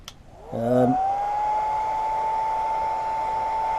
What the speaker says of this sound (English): all I'm going to do is just use a heat gun